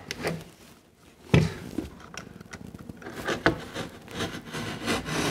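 A utility knife scribes into plasterboard fixed over timber, pass after pass going deeper, giving close, dry scraping strokes with a few sharper cuts as the blade bites through the board.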